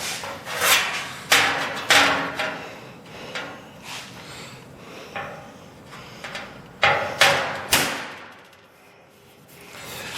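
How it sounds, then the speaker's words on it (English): A caulking tool hammered onto the ends of a steel roadster pickup bed panel, giving sharp metallic blows singly and in quick bursts with short pauses, loud and close. "I'm going to use my corking tool just to finish off the ends and take the stress out of the panel"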